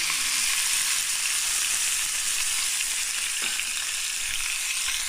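Boneless fish fillets fry in hot oil with a constant close crackling sizzle, bright and unbroken, and a few soft pops stand out.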